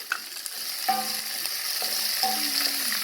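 Chopped garlic sautéing in a pan, a steady close sizzle with occasional scrapes and clinks of a utensil stirring.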